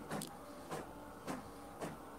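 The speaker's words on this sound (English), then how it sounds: "You're hearing the printer making a noise." Home printer running while printing: a faint, steady mechanical hum broken by soft, regular clunks about every half second, quiet and alone without talk.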